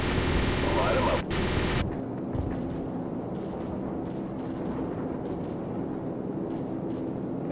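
Gunfire and explosions in Call of Duty 4: Modern Warfare, opening with a loud sustained roar of fire that cuts off into scattered sharp shots and distant rumbling.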